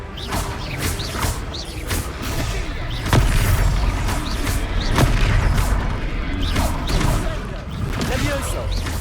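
Repeated spell explosions from Confringo casts in the Hogwarts Legacy video game, fighting an armoured troll: booming blasts and crashes recurring every second or two over a dense, continuous battle din, with voices calling out through it.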